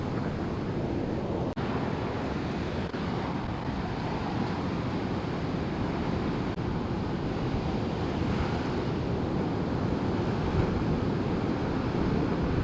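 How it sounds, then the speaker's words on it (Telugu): Heavy sea surf pounds the shore during Cyclone Montha, a loud continuous roar of breaking waves mixed with strong wind buffeting the microphone, steady for the whole stretch with no speech. "మోంతా తుఫాన్ నేపథ్యంలో సముద్రంలో భారీ అలలు ఎగిసిపడడంతో"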